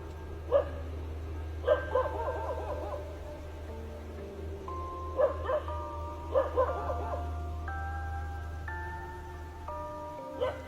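A dog barks in short bursts at night, several yelps and harmonic whines spaced through the clip over a steady low hum, with faint voices in the background.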